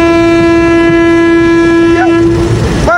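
A train in Lomé, Togo, sounds a loud, sustained horn close by, with the rumble and clatter of the passing cars beneath it.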